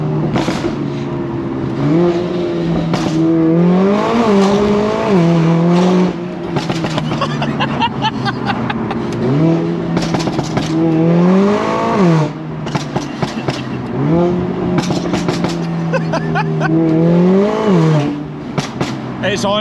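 Mercedes-AMG A45S, Stage 2 in Magno Grey, with a Cobra downpipe and Milltek race exhaust, revving and pulling hard through a village, engine note rising and falling in repeated loud surges, close and steady throughout.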